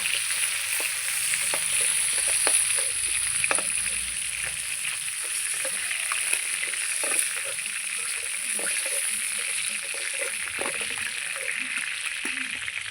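Shankar fish fries in a wok, its dense hiss and crackle running steadily close by, with frequent small pops and occasional utensil scrapes and no speech.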